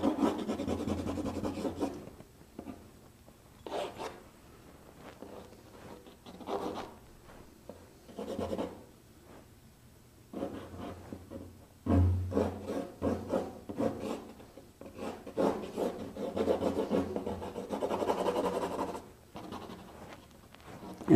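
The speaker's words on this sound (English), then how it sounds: "I'm drawing, I'm putting a lot of pigment on here." A Daniel Smith watercolor stick is dragged across textured paper. The result is intermittent scratchy rubbing strokes that come in bursts with short pauses between them, close and fairly quiet.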